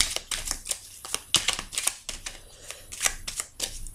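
Tarot cards are cut and handled, a series of quick papery snaps and riffling flicks in an uneven rhythm, close and crisp with no talking.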